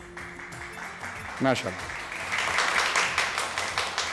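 A studio audience claps for three quiz teams on a Ramadan television quiz show. The applause swells and holds steady while a host keeps talking over it.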